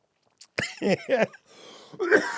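A few harsh coughs in quick succession, close and fairly loud, followed by a throaty rasp.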